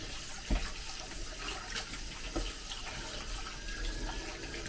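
Rice being washed under running tap water in a kitchen sink, a steady close stream with a few splashes and knocks, no talking.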